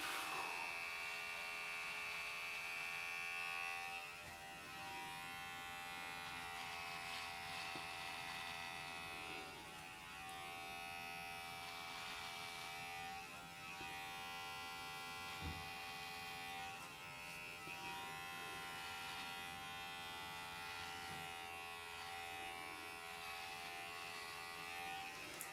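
An electric shaver runs against a beard with a continuous close buzzing hum that shifts slightly in tone as it moves across the stubble, with no talking.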